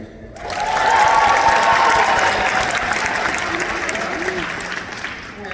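A commencement ceremony crowd claps steadily, with scattered cheers and shouts rising over the applause; the sound stays loud and full throughout.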